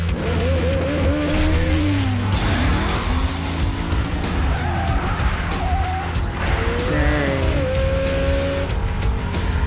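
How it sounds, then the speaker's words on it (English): Film car chase with revving engines and repeated sharp tire squeals, skids sliding up and down in pitch over a loud continuous engine roar. "we're like 10 minutes into this movie and we're already getting another car chase"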